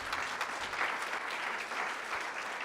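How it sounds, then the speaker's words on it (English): An audience at a city's State of the City event claps for two councilmembers, a sustained, even wash of many hands applauding, moderately quiet and without voices over it. "Let's give them a round of applause, please."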